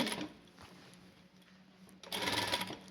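A sewing machine stitches a blouse in bursts, a short run at the start and a louder, sustained run near the end, with a quieter stretch between.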